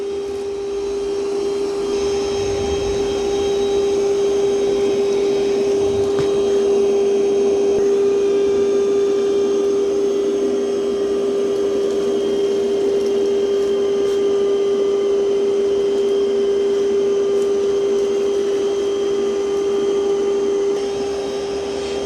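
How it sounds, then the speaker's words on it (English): Roborock Qrevo Edge robot vacuum running at maximum suction on a rug, a loud steady motor whine with a strong sustained tone and airy rush that holds for the whole stretch without voices. "I'm going to have it start vacuuming this rug. Now I do have it on its maximum suction."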